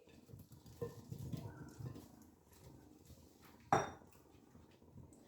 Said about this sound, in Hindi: सारे गोभी को मैं बैटर में अभी डाल दूंगी